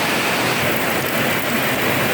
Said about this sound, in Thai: ฝน อันนี้คือฝน